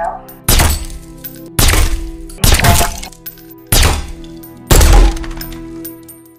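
Five sharp gunshot impacts striking target objects during shooting practice in a film, each a loud crack-thud spaced about a second apart, standing alone with no talk.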